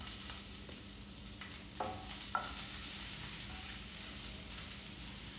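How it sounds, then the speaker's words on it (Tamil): Sliced onions and garlic sauté in a pan with a steady, close sizzle, broken by a couple of brief utensil clinks and scrapes near the middle. "இப்போ வெங்காயம் சீக்கிரமாக வதங்கணும்."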